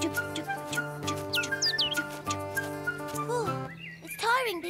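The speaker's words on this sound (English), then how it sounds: "Oh, look, a birdie." Bright bird chirps and whistles in a children's cartoon, over a busy, tuneful musical backing, with a few quick rising calls near the end.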